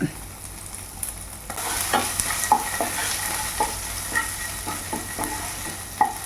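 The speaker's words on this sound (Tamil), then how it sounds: "இந்த பன்னீர் வந்து கோல்டன் ப்ரௌனாக நல்லா குக் ஆகிற வரைக்கும் நம்ம வந்துட்டு வதக்கிக்கலாம்" Paneer sautéing toward golden brown in a hot pan, with a continuous close sizzle and repeated scraping stirs and sharp clinks of a spatula striking the pan every second or so.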